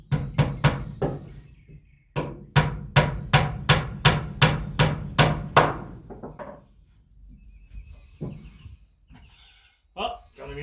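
Loft floorboards are nailed down over a double joist with a hammer: sharp, loud, evenly spaced blows in two quick runs, followed by quieter handling noises and a final knock.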